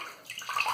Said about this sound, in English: Let me just wet my face and use the bloom water as a pre-shave.